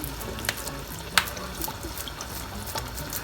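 Vinegar poured into an artichoke and shrimp stew cooking in a pot, a steady close liquid pour with light splashing and a few small clinks, no voices.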